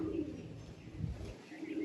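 Two pigeons in a village coo briefly, a low soft coo close by against faint background noise.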